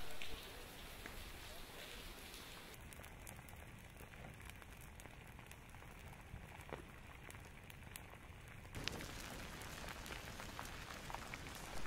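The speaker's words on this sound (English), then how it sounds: "Even the rain can't put it out." Steady rain hissing down near a lava flow in Pahoa, a dense broadband wash with faint crackles beneath it.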